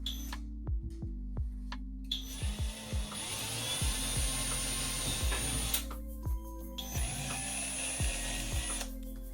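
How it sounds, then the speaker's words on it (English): A power drill whirs in several short bursts, spinning up and down with rising and falling pitch, then two longer sustained runs pre-drilling a hole in drywall, close by. "I like to go ahead and use a drill bit to then kind of pre-drill my hole"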